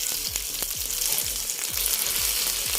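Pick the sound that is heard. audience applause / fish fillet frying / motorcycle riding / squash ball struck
fish fillet frying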